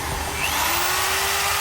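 A power drill bores two holes for mounting a part, its motor whining loud and close with a rising pitch as it spins up, no talk.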